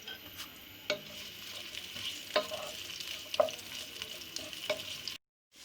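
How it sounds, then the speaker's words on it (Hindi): Quiet sizzling of onions frying in oil in a pan, with a few soft clicks and stirring knocks over the crackle before it cuts to silence. "प्याज डाल दिया, ऑयल डाल दिया, प्याज को फ्राई करते हैं।"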